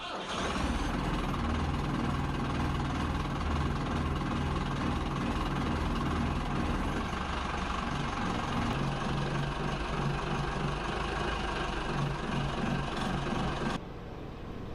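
A vintage yacht's diesel engine runs steadily after its fuel system was bled of air, a continuous close rumbling drone that holds for about fourteen seconds before cutting down near the end.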